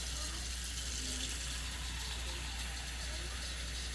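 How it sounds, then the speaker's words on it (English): Tap water runs into a small pot at a kitchen sink, a steady rushing hiss at moderate level over a low constant hum, with no pause or break. "exciting watching water fill up"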